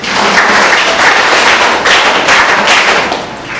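Steady, loud applause from an audience at a school alumni felicitation event honouring students with top SSLC exam marks, a continuous wash of clapping with no talk.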